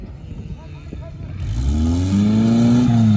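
A Lada Niva off-road car, running hot, drives with its engine rising in pitch as it accelerates, loud and close, while people talk over it.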